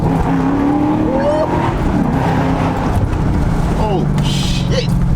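A tuned Audi S4 B7 accelerates hard through its exhaust, rising in pitch with gear changes and a loud, raw rasp close by, with voices talking over the engine.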